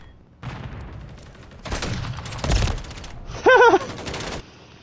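Several shotgun blasts go off in a video game match, loud sharp bursts spaced a second or so apart, with a brief electronic warble near the end.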